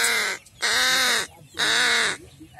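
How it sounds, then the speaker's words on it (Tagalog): A crow in a rural province of Lanao del Norte gives two loud, harsh, drawn-out caws, close by and clear, with a short pause between them. "Kini sa muna uwak guys."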